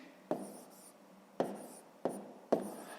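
Pen strokes writing numbers by hand during a fifth-grade division exercise: four quiet, sharp scratchy taps spaced irregularly across a few seconds, each fading quickly, with no talking.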